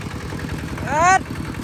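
A tractor engine runs while ploughing a rice field, steady and mid-distance, then briefly revs up into a rising whine before settling back to its even churn.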